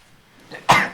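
A single sharp sneeze bursts out close and loud after a quiet breath, brief and explosive, during a casual indoor conversation.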